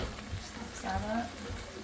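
Homemade beef stew seasoning mix is stirred into broth with a spoon, giving a soft, continuous sloshing and scraping close by, with faint murmuring in the background.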